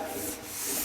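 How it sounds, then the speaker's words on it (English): Block sanding on the fender of a 1950 Chevy truck: a short, continuous abrasive rubbing stroke, close and steady. "And I'm looking as I'm sanding."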